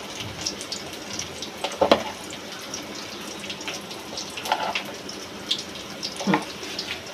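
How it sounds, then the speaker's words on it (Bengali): Water splashing into a cooking pot holding a spiced salt, turmeric and chili mix, a soft continuous trickle with a few louder splashes and clinks scattered throughout. "এখন এখানে একটু পানি ইউজ করব।"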